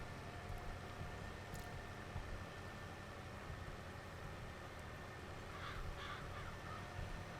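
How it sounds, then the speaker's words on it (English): Crows caw in Farming Simulator 22, a few harsh calls rising faintly over a steady, noisy farm-machinery drone near the end. "Get out of here, crows."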